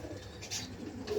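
A pigeon coos softly and nearby among a flock of pet pigeons, a brief low call over quiet background noise.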